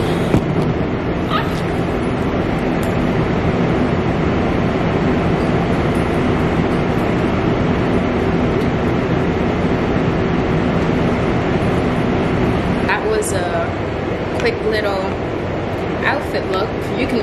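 Inside a New York City subway train in motion, a loud, steady rumble and rattle fills the whole stretch, with a voice talking over it and some brief squealing near the end.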